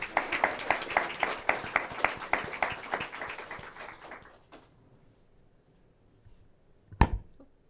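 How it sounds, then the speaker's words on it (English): An audience claps for speakers at a talk on the transition away from coal, a dense round of applause that thins out after about four seconds into near quiet, with a couple of isolated knocks afterward. "Maybe some initial applause for the speakers."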